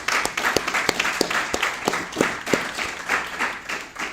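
A small audience claps at a press launch for the 2016 CB Group UWI 5K, with sparse, distinct hand claps in a loose, uneven rhythm over about four seconds, close and moderately loud.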